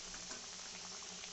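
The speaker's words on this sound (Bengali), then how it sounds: "ঝোলটা ফুটে উঠেছে" Thin fish curry broth made with stinging catfish bubbles in a pot on the stove, a faint, steady simmering hiss with soft popping bubbles and no voices.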